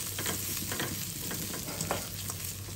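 Anchovy fried rice coated in tamarind paste is stirred in a hot pan, a steady sizzle with scraping spatula strokes throughout, close and fairly loud, no talk.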